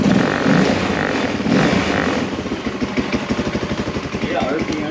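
A Tao Tao Mudhawk 200 ATV engine, mid-refurbishment, revs up and down in a steady mechanical drone, with rapid firing pulses becoming audible toward the end, while people talk over it.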